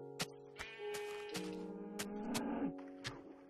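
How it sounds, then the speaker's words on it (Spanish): Cows in a blocky Minecraft-style game moo in several drawn-out, overlapping calls, with sharp clicks and thuds scattered between them, all fairly close. "Una vaca."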